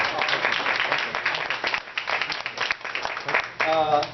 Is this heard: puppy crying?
no